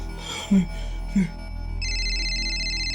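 A phone ringtone trills in a steady electronic pattern that starts partway through and continues to the end, preceded by a couple of short muffled knocks over a low background hum.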